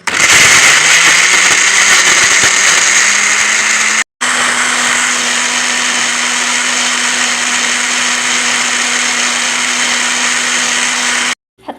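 Loud, close kitchen blender pureeing onion, garlic and tomato: a steady high motor whine that shifts pitch as the blades catch, a brief stop around the middle, then a long even whir before it cuts out.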